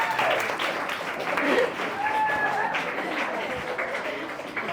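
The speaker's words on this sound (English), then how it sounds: "I think I get a round of applause for saying that" Audience applause at an event honouring a woman named Pearl, a broad steady clapping that fills the room at moderate loudness, with a few voices and a brief tonal sound mixed in near the middle.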